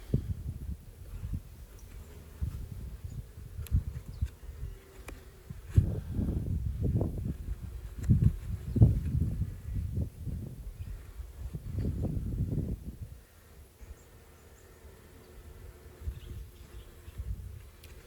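Honeybees in a small winter mini nuc hive give a low, steady hum that swells louder in the middle stretch and then fades back to a quieter drone, alone without talk.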